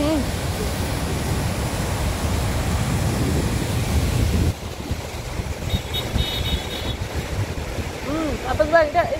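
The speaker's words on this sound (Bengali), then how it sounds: "দেখুন গাড়ি চলার অবস্থা দেখুন, পানি কোথাও উঠছে।" A car drives through a street flooded after rain in Jeddah, Saudi Arabia, with a loud rushing wash of water that drops off midway and leaves a softer splashing, with a voice near the end.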